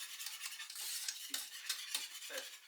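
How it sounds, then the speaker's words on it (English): Cauliflower cheese sauce being stirred in a pan, with repeated soft scrapes and light clinks of a utensil against the pan over a steady faint bubbling hiss, close and fairly quiet. "So just keep stirring."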